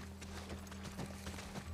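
Horse hooves clip-clop in a steady walking rhythm during a ride in The Last of Us Part I, faint and moderately close beneath a low ambient hum.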